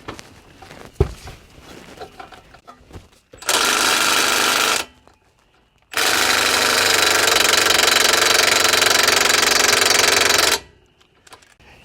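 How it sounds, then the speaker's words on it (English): An impact wrench works on a front strut bolt of an Acura RSX in two loud, sustained bursts, a short one and then a longer one of about five seconds. Quiet shop clatter sits between the bursts. "Gonna have to see if I can get an impact wrench to fit in there for that guy"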